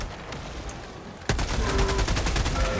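A turret in Helldivers 2 opens up partway through with a sudden burst of rapid automatic gunfire, a loud rattling stream of shots that continues to the end after a quieter stretch of background game noise.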